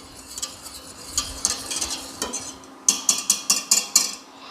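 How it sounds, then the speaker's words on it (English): Whisk working sugar in a pot for caramelizing, soft scraping at first, then a run of sharp metallic taps against the pot rim, close and clear with no voices. "we want to whisk this nice and well"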